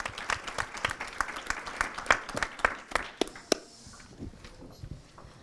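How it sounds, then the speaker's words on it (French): A burst of applause from a small audience at a round-table discussion, clapping briskly for a few seconds before tapering off into scattered claps and faint room noise. "Oui, et on peut les applaudir."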